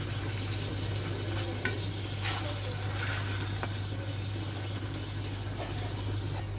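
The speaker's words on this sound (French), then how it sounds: "Et on mélange. Et on laisse comme ça. À feu doux" A mixture for an apple cake being stirred in a pan over low heat: soft scraping and gentle stirring strokes over a low steady hum and faint sizzle, with no talking.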